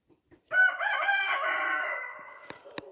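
A rooster crows once, loud and close, in a backyard alongside ducks and chickens, the call sustained for about a second and a half before fading, followed by a couple of sharp clicks and no talking.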